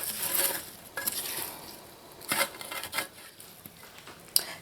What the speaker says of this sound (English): All I'm going to do is toss it in that garlic butter sauce to coat